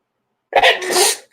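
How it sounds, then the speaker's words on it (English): After a moment of silence, a single sharp, wet sneeze bursts out close and loud, trailing off into a soft breath. "Oh, that was a sneeze."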